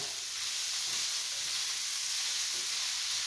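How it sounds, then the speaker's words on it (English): An Alfredo base sizzles steadily and loudly in a pan while being stirred, a dense continuous hiss with faint scraping underneath and no talking. "We're going to stir it around."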